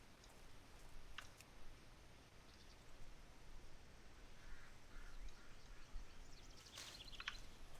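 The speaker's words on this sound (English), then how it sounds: "You can hear the birds and the ducks." Ducks quacking and other birds calling in the World of Warcraft Classic ambient soundscape, a few faint, brief calls scattered over a quiet, hushed outdoor background.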